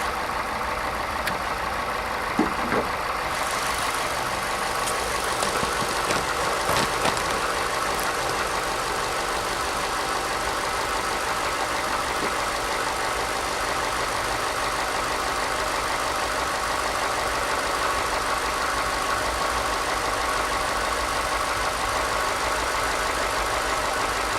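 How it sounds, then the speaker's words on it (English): A car engine runs steadily for the whole stretch, a constant idling drone with a few brief clicks early on. "We're going to go ahead and shut off the engine"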